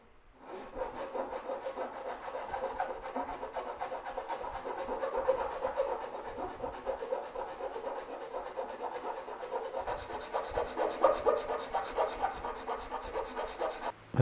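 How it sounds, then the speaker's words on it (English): Steady, continuous rasping of sandpaper rubbed back and forth over a wooden model ship hull, close and even, with no voices. "As you can see, it's very easy to sand."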